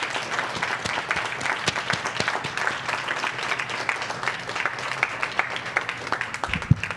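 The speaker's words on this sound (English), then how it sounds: "Let's everybody give them a round of applause." Audience at a student success celebration gives students from Mickey Bright and David Hill a steady round of applause, dense clapping sustained throughout with no talking over it.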